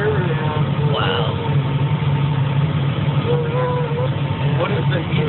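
A tractor fitted with GPS auto steer, its engine running at a steady low drone from inside the cab, with people talking over it throughout.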